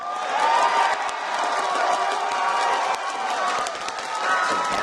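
Arena crowd at the League of Legends Worlds 2012 esports championship cheering and shouting in a sustained roar, with scattered claps and whistles mixed into a loud, continuous swell.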